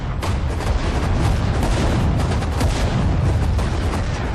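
Dense, loud tank and infantry gunfire in the Sudden Strike 4 video game, Tobruk battle: continuous overlapping booms and rifle and cannon shots blending into a sustained barrage with no pauses.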